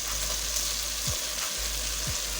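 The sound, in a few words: masala spices frying in oil with tomatoes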